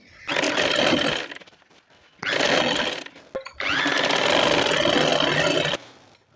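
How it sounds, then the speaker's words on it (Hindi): A sewing machine stitching the side seams of palazzo trousers whirs loudly in three sustained bursts separated by short pauses, close and mechanical. "इसी तरह हम दूसरी साइड पे भी सिलाई लगा लेते हैं"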